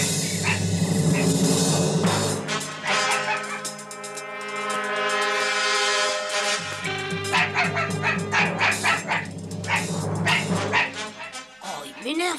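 Cartoon dog barking repeatedly in rapid yapping bursts, with yips and whimpers mixed in, heard over background music and voices talking.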